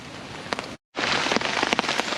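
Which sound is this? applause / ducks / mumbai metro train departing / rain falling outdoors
rain falling outdoors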